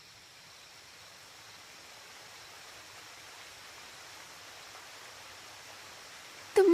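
A waterfall produces a soft, steady hiss of distant rushing water, even and unbroken throughout, with a brief sharp noise right at the end.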